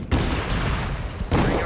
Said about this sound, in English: Firing an electrostatic discharge.